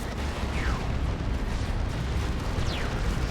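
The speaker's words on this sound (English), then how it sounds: "bioplasma coming in from the Carnifex with the Venom Cannon" A Tyranid Carnifex's Venom Cannon firing bioplasma in the Dawn of War 2 strategy game, heavy booming blasts with whooshing streaks over a dense rumbling battle din.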